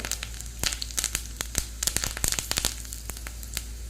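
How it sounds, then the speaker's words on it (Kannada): Curry leaves go into garlic frying in hot oil for a tempering. The result is a close burst of sputtering, crackling pops over a low background hum that gradually thins toward the end. "ಬೆಳ್ಳುಳ್ಳಿ ಫ್ರೈ ಆಯಿತು ಕರಿಬೇವು ಹಾಕ್ತೇನೆ"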